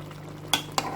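Chicken and ridge gourd being stirred in a cooking pot, with two distinct scraping strokes of a spoon against the pot over a low steady hum.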